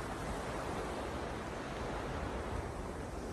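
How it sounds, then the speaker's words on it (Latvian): Sea waves rolling in at Tarragona, Spain, heard as a steady, even wash of surf with no distinct breaks, faint and continuous, with no one talking. "Un šeit ir jūra"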